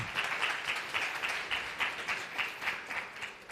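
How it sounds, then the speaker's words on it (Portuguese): A classroom of students in a calculus lecture applauds a classmate, with a modest, fairly even patter of clapping that stays steady and moderately close for a few seconds. "Palmas para o nosso amigo aí"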